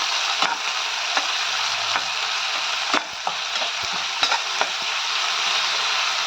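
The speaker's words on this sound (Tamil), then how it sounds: "2 தக்காளி போட்டு நல்லா வதக்கலாம்." Two tomatoes sauté in a pan for mint rice, a steady bright sizzle with repeated scrapes and taps of a spatula stirring through it.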